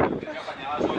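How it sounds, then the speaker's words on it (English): Gusty wind buffeting the microphone on a hilltop above Benidorm, a loud broadband rush that swells and dips over one second. "Like, oh, a bit windy."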